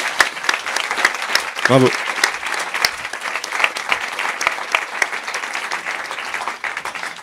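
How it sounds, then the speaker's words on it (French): An audience at a youth film screening and debate evening applauds a film, giving sustained, even clapping throughout, while a voice calls out a brief cheer partway through and speech carries over the clapping. "je pense qu'on peut encore t'applaudir pour ce film avec Camille"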